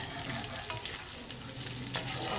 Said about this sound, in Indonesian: Nah, ini bawang digoreng sama ibu.